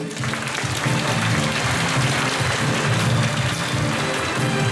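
An auditorium audience applauds at a library's centenary celebration in a city culture hall, a loud, sustained, dense clapping that holds at full strength from start to finish.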